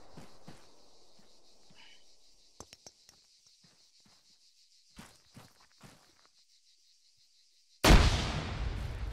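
Frag grenade blast in Arma 3, a sudden loud explosion near the end after a quiet stretch of faint footsteps and scuffing, followed by a rumbling decay.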